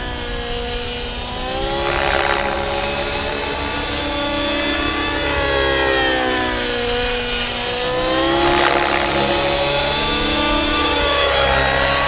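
RC helicopter flying loops and pirouetting loops, a loud continuous whine of rotor and motor that swells and sweeps in pitch with each manoeuvre, close and without talk.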